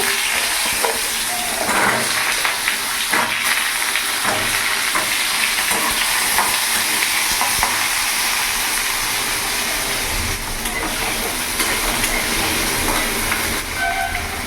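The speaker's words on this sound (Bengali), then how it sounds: "এরই মধ্যে এখানে কেটে রাখা আলু আমি দিয়ে দেবো" Cut potatoes hit a hot pan and are stirred while frying, a loud, continuous sizzle with scraping stir strokes running steadily from start to finish.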